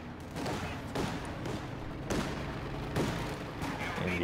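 Repeated anti-tank gun shots fire in a Company of Heroes 2 battle against a Panther tank, loud heavy blasts arriving every second or so over a constant din of distant gunfire.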